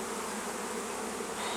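A bee swarm buzzes as a dense, continuous hum of many insects close by, steady and unbroken, with no voices.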